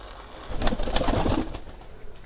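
Domestic pigeons of a local breed coo in low, soft bursts while being fed, with scattered wing flutters and shuffling close by over a steady background.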